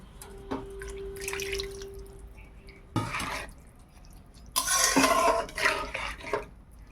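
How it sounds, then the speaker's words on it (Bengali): Water is poured into a wok on a gas stove holding hand-mixed prawns, close up. Short splashing bursts and trickles sound against the metal, with brief clinks between pours. "এইবার আমি দিয়ে দিলাম হাতে মাখা চিংড়ি মাছ আর দেব পরিমাণ মতো জল"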